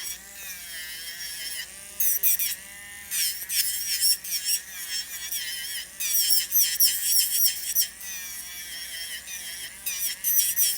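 An electric nail drill files gel nails in short, high-pitched whirring bursts that start and stop repeatedly, close and fairly loud, with brief pauses between passes and no talking.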